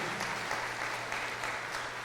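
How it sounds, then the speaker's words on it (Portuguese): Steady applause from a church congregation during a Sunday morning service greeting guests, a dense, even patter of many hands over a low hum. "Vamos aplaudir a vida dos nossos convidados nessa manhã."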